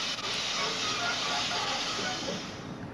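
Steady broadband rumble and hiss of a large train rolling past nearby in South Africa, continuous and loud without clear clacking rhythm.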